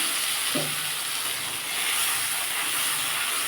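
A paste of chili, turmeric, ginger and cumin sizzles in a pan for a vegetarian potato and pointed gourd curry, giving a steady broad hiss with a brief tonal blip early on. No one speaks.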